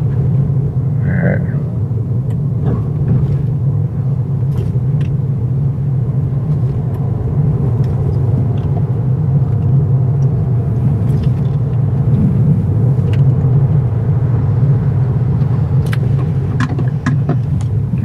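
A Toyota Corolla Sport with a manual gearbox drives in Sport+ mode, its steady, loud engine rumble and road noise droning continuously from inside the cabin, with scattered small clicks and knocks.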